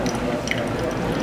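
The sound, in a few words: hot water poured over coffee grounds for pour-over coffee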